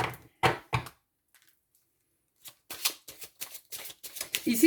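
Tarot cards being reshuffled by hand, a couple of quick riffling bursts, a pause, then a longer run of brisk papery shuffles close to the mic.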